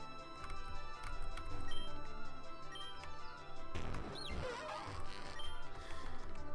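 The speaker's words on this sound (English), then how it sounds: "My rock smashing luck is not lucky right now." Rock smashing in Pokemon Daybreak, with chiptune-style game music and small clicks running throughout, then a sudden crunching smash burst near the middle that fades back into the looping tune.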